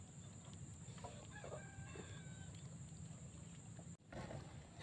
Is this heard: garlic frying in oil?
no